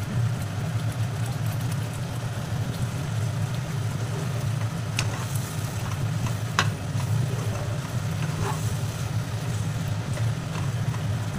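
Jackfruit pakora fritters go into a boiling spice gravy, with a steady loud sizzle and bubbling that runs throughout, plus a few brief clinks of a spoon against the pan.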